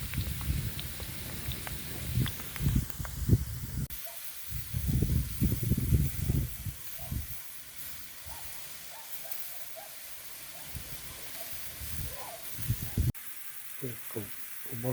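Potatoes fry undisturbed in a pan alongside mushrooms, giving a steady close sizzle with crackling pops and bursts of spitting oil, fading and swelling across the stretch.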